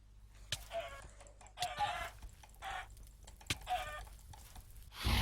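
Chickens in the Minecraft video game give several short clucking bursts spread irregularly over a few seconds, mixed with sharp clicks and ending in a louder rush of noise.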